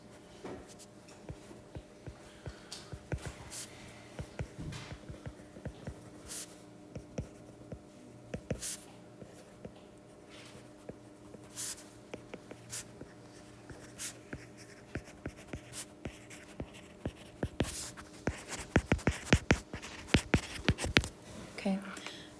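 Marker or chalk strokes writing a sentence on a classroom board, a run of scratchy taps and squeaks in irregular bursts, fairly close and quiet.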